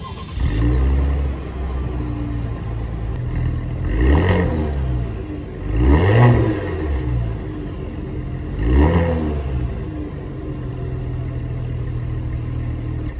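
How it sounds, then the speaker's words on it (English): A Cadillac CT4 350T and CT5 550T engine is revved in three distinct, loud exhaust swells spaced a couple of seconds apart over a steady, close idle rumble. "This is just so you can hear the normal version of the 550T and 350T."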